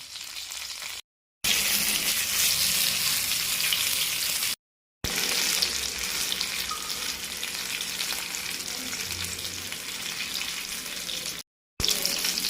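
Stuffed brinjal with masala frying in a pan gives off a steady, close sizzle that runs throughout, broken by a few short silent gaps.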